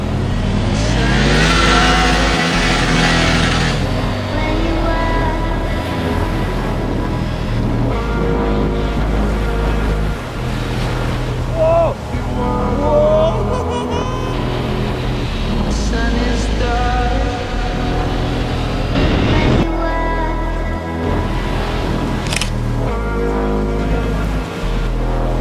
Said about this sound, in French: aller y poser les roues de la Tiger 900 Rally Pro, histoire de me faire plaisir, le temps d'un aller-retour